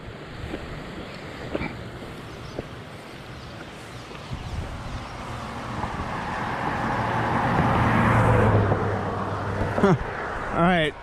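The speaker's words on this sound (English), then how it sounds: "more and more cars keep coming" A car rumbles along a road beside a large, fast-flowing river on a Pinhoti Trail thru-hike, swelling from a distant hiss into a louder, close pass before dropping away, all over steady water and wind noise.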